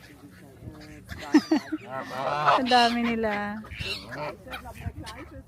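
Ducks and other waterfowl gather as they are fed in a park, their quacks and honks rising in a busy burst beneath close, cheerful talk and laughter.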